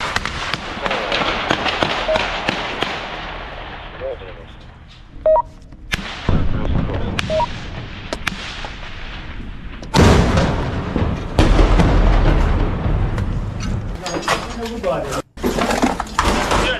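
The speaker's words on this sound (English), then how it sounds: "Russian soldiers continue firing bursts from closed positions." Gunfire in combat, with Russian soldiers firing bursts from closed positions at a damaged building: loud, irregular cracks and booming bursts, some clustered, some isolated, over background noise, with a voice talking faintly now and then.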